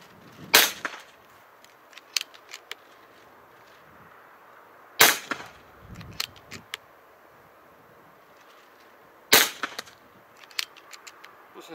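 Three sharp shots from a PCP air rifle with mechanical sights, firing Spot On Vortex .22 (5.5 mm) 14.66 grain pellets at a target beyond 55 metres. Each loud crack comes about four seconds apart, followed by a few faint ticks.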